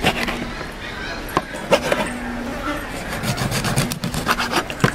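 Knife cutting a fairly large mackerel into two or three pieces, repeated scraping and rubbing strokes with sharp knocks on the board, while a person talks throughout.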